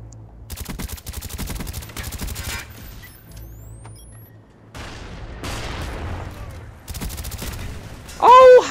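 Video game gunfire in Call of Duty: Black Ops, with rapid automatic bursts and scattered shots in several volleys, interspersed with quieter gaps and a brief louder effect near the end.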